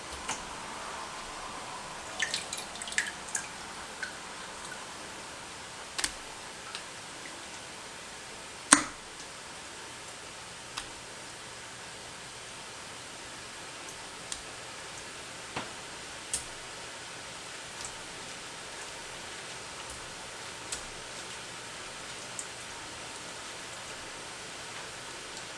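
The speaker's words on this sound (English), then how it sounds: "let them drain a little bit in my colander here" Chopped tomatoes draining in a colander set in a kitchen sink give off sparse, faint drips and soft ticks at irregular intervals over a quiet background.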